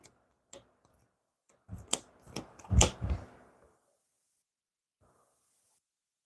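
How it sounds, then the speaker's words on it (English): Game cards from a discard pile being shuffled, a burst of quick papery riffles and taps near the middle, close and fairly loud, with quiet before and after. "So I'm going to take my discard pile and shuffle it thoroughly."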